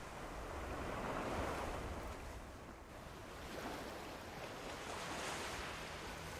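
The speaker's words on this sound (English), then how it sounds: "Sounds of the ocean." Ocean waves wash onto a beach in the video game Death Stranding, a soft, continuous surf roar swelling and easing gently with no voices over it.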